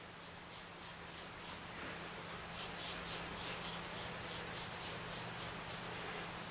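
Sand being rubbed by hand into carpet, a continuous close scratchy rubbing with rhythmic strokes under a low steady hum.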